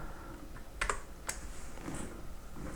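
A few separate clicks of computer keyboard keys being pressed, such as Shift and R, close and fairly quiet against a soft room background, with no talking.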